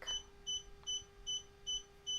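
An embroidery machine sounds a thread-break alert: six evenly spaced, short, high electronic beeps repeating at a steady rhythm, fairly faint over a low background hum.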